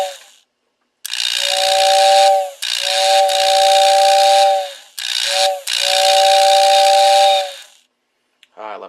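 A postwar Lionel toy train's tender whistle blows in four loud, close bursts, each a steady two-note airy tone over hissing, with short breaks between and a faint mechanical click at the end.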